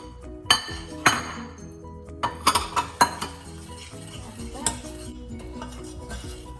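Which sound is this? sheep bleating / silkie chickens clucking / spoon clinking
spoon clinking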